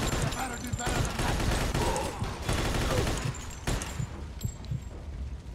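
Gunfire in the Mafia II video game crackles in rapid, repeated bursts of sharp shots over several seconds, loud and close amid chaotic background noise before thinning out near the end.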